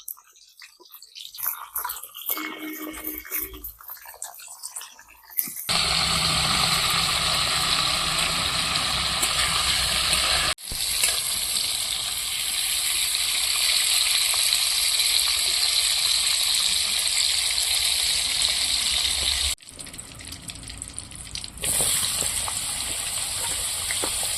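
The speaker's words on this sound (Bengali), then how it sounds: "এবার আমি দিয়ে দেবো তেলের মধ্যে ফুলকপি আর এই ফুলকপি ভাজার সময় আমি একটু লবণ দিয়ে ভাজবো" Cauliflower florets fry with a little salt in hot oil for a mixed vegetable dish. After a few quiet, scraping seconds, a loud, continuous sizzle starts and holds almost unbroken to the end.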